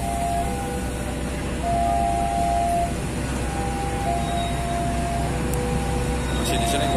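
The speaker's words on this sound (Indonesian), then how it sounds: "Kereta api Taksaka Yogyakarta Gambir." A steady, broad rumble of the Taksaka passenger train rolling past at Yogyakarta station, with a sustained tonal hum running through it and occasional sharp high squeals.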